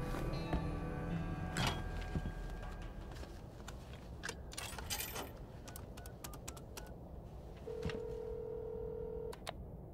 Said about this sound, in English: There's the phone booth, yeah, she's calling.